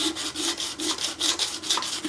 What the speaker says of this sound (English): what I am going to do is just get a piece of 220 sandpaper and